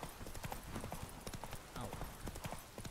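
Hooves of Roach, Geralt's horse in The Witcher 3, clip-clop in a steady galloping rhythm, loud and close, with game ambience and a faint voice over them.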